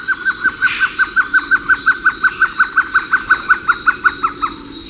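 A trogon gives a rapid series of about twenty evenly spaced, clear call notes at a steady rhythm, loud and close against quiet background hiss.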